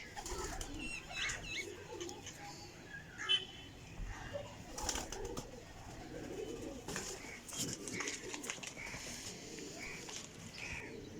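Pigeons, Chinese and golden birds, at a pigeon dealer's loft, coo and flap their wings in a busy, steady stream. A sharp wing clap sounds near the middle, with faint voices in the background.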